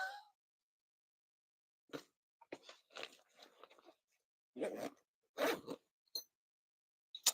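Zipper pulls on the side pouches of a backpack, several short rasping bursts in separate spurts with quiet gaps between, close and fairly soft, with no talking.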